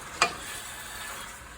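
Ground beef fries in a pan while taco seasoning is stirred in, a brief scrape of the spoon followed by a soft, steady sizzle close by.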